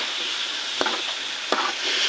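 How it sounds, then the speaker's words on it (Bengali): Singhi fish drop into a sizzling spice paste in a pan, two sharp splatting hits over a constant close hiss of frying. "মশলাটা কষানো হয়ে গেছে, এর মধ্যে শিং মাছগুলো দিয়ে দিই"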